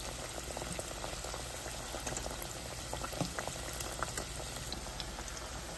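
Tuna cutlets frying in well-heated oil, a steady close bubbling sizzle with faint crackles running throughout and no voices.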